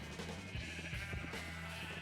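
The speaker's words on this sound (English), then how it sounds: "All right, eat up, sheep." Sheep in a block-building video game bleat in a few short wavering calls, faint and close, layered over a soft sustained musical background.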